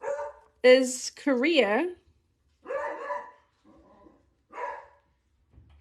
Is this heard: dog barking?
yes